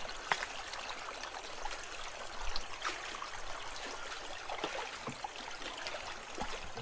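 Water runs steadily through a four-inch sanitary pipe at a rural fishpond, a continuous close splashing trickle with small gurgling bursts, unbroken and even for several seconds.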